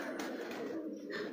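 A large pigeon cooing softly at close range on a rooftop loft, a brief low murmur with a little faint background noise.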